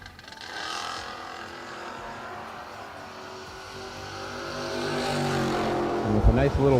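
Drag race car roaring under a commentator's voice at a season-opening drag racing event, the engine note building steadily and surging loud near the end as the car launches off the starting line.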